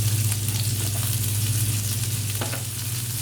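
Celery hits a hot pan of chicken stir fry, giving a loud continuous sizzle and frying crackle close by, with a brief stir partway through.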